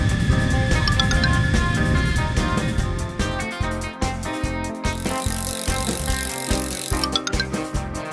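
A cartoon bicycle sound effect plays over bright, tonal children's music: rattling, ratcheting mechanical clicks ride along with a rhythmic beat, steady and close, with a chime-like shimmer midway.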